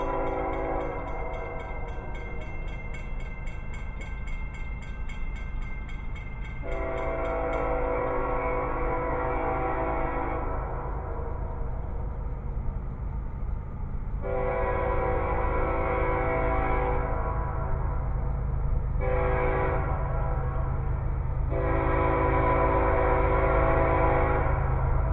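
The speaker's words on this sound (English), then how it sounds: "here comes another train." A train rumbles past steadily with a low continuous roar, while a horn sounds in several long blasts with short gaps between them.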